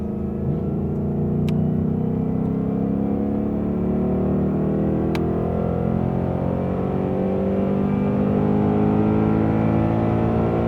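Ford Mustang on a race track during a driving course, its engine droning steadily at high load as it accelerates, a continuous close roar with no talk over it.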